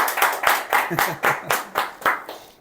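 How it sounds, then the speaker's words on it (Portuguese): Someone claps in a steady rhythm of about ten evenly spaced, close claps, with voices audible alongside. "Salva de palmas, Josi, pra você."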